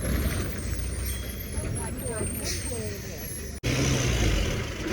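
A bus or similar road vehicle pulls up at a village stop in heavy rain, its engine rumbling steadily with a short hiss like an air brake near the end, while people talk nearby.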